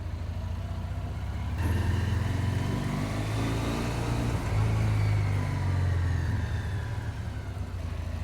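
A Ural Neo 500 sidecar motorcycle rides steadily, its low engine drone and road rumble continuous throughout with a rise in revs partway through, heard from the rider's seat.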